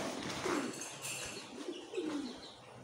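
A pet pigeon in its cage gives a few soft, low coos against a steady background hiss, close by and fairly faint.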